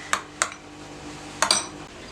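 A metal tava griddle pan is set down and shifted on the stove, four sharp clanks in two pairs, close and clear against a quiet room.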